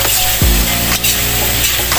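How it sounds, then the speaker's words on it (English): Pork sautéing in hot oil in a pan, a loud steady sizzle with a brief low clatter of the pan early on and a short crackling burst partway through, close and alone. "Igisa natin medyo ito, guys, yung pork natin."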